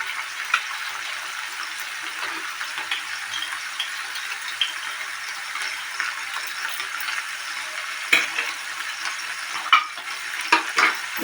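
Chopped tomato, green chili and ginger-garlic paste are stir-fried in a pan, making a moderate steady sizzle with a few sharper spatula scrapes toward the end.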